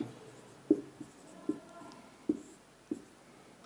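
A pen writing on paper while working a Class 7 maths problem: quiet, close scratching strokes with a steady rhythm of sharper taps about every second, all over low room hiss and with no talking.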